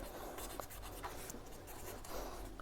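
Handwriting on paper, soft close scratching and rubbing strokes of a pen in a quiet room, faint and steady with small pauses.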